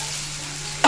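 Fried potatoes sizzle steadily as they are stirred into spiced masala loosened with a little water, a close, continuous hiss with a low hum, ending in a sudden louder scrape of the spoon.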